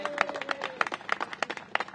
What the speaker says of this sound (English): So let's give her a round of applause for all her work.